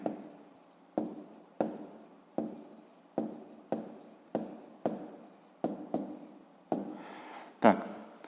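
A pen scratches out handwriting on paper while working a school math exercise, in about a dozen short, evenly spaced strokes, close and quiet, with no voice.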